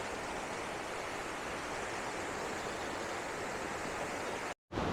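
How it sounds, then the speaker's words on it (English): A waterfall at Old Man's Cave, quieter than the upper falls, roars as a steady, dense broadband rush with no letup until a brief drop near the end. "this waterfall isn't as crowded as the upper falls"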